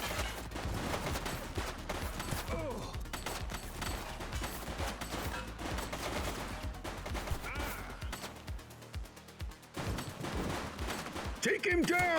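Gunfire in The Precinct police video game, repeated sharp shots in quick volleys during a street chase, mixed with game sound and brief voices.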